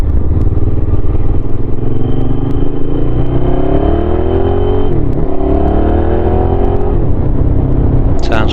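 A modern motorcycle ridden at speed, its engine droning loud and steady, rising and falling in pitch through several gear changes, with wind noise over it.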